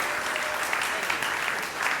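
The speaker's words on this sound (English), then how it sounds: "a quick round of applause for Brigit" Applause from the audience at an impact-investing conference panel, a continuous, even patter of many hands clapping at moderate volume with faint voices mixed in.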